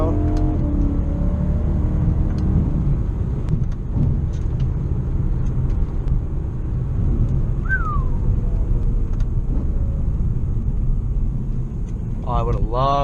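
A BMW E90 M3 accelerating out of a sweeping corner, a loud, steady in-car engine rumble under road noise, with a short chirp near the middle and a voice speaking at the very end.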